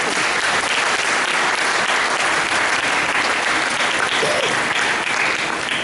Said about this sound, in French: nous allons les découvrir, les honorer par nos acclamations